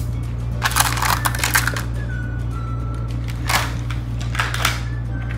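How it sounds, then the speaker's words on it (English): Small rocks poured and clattering into a toddler sensory bin, crunchy rattling bursts in a few separate pours over a steady low electrical hum, with no voices. "I'm gonna put rocks so my dinosaurs could climb"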